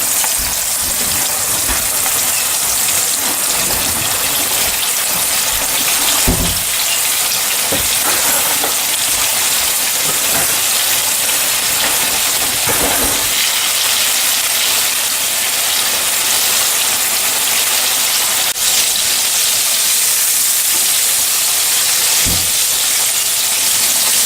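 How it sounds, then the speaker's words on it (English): Steady sizzling and spattering of chicken wings frying in a hot pan, a continuous hiss with occasional louder pops and crackles, no voices. "now we're just gonna start frying off the wings"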